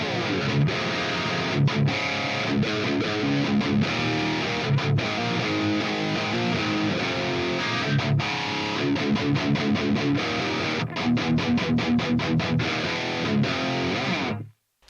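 Electric guitar played through an Amped Flagship amp modeler preset gives a tight, heavily distorted tone with rhythmic chugging riffs and palm-muted stops, loud and steady for about fourteen seconds before cutting off.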